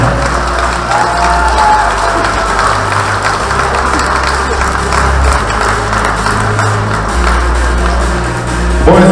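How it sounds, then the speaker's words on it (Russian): Arena crowd applauding fighters at the end of an MMA bout won by technical knockout, steady dense clapping and crowd noise throughout over a low rumble of music or hall noise. "давайте еще раз поприветствуем наших бойцов аплодисментами"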